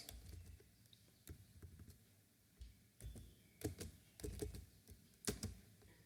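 Soft clicks of typing on a computer keyboard, irregular keystrokes in small clusters, quiet and close, with no talking.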